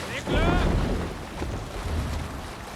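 A sailing ship at sea in the game Assassin's Creed Valhalla, with wind and water rushing and a brief creak or flap as the sail goes up, moderately loud and steady.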